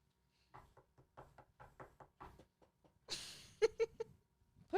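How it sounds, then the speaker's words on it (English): Knocking on a door during a podcast's escape-room style game: a run of light, separate raps spaced fairly evenly, then a burst of louder, sharper knocks near the end, close by with no talk over them. "Knock."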